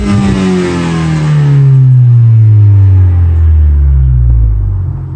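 Heard from inside the cabin, the engine of a 2018 Lexus IS 300 2T with a deleted muffler revs up loudly and then falls back with a deep, droning exhaust rumble that fades at the close.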